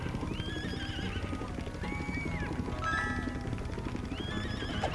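A horse in the LEGO 2K Drive racing game whinnies in repeated rising-and-falling neighs over busy clip-clop hoofbeats and a dense game soundtrack.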